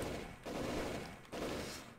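Automated gun turrets in the video game Factorio fire in dense, rapid bursts. Two sustained volleys are separated by brief dips, and the chatter is loud and close with no talking.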